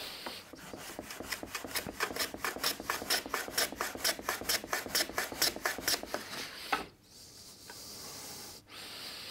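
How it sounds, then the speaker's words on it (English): Handsaw cutting wood while a small wooden box is made, a close run of about two dozen quick, even rasping strokes that stop after roughly seven seconds, leaving quiet shop ambience. "I've got to do a little bit of this handsaw cut on there"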